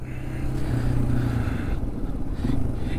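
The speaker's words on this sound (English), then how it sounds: "I'm gonna have to get used to using the engine brake a whole lot more on this bike" A Yamaha XT225 dual-sport motorcycle engine-braking off a dirt trail near a road, its engine a steady, moderately loud drone with a shifting, slowing tone.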